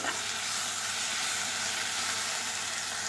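Okra and onion fry in hot oil with a little turmeric, a steady close sizzle with faint scraping of stirring running unbroken and alone.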